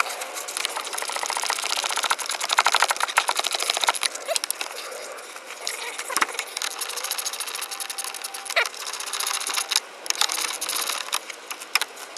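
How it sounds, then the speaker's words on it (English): A 2002 Chrysler Town and Country engine cranking slowly and reluctantly before catching and running, a steady mechanical whirring rattle with uneven chugging bursts, close up and loud, no talking. "almost didn't want to start on that one. We're slow cranking."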